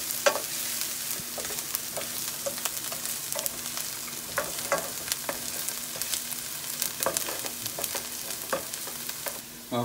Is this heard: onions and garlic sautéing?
yes